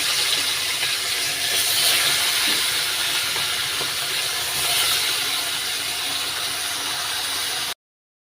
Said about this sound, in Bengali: তেলটা আমার গরম হয়ে গেছে মাছগুলো আমি প্রথমে ভেজে নেবো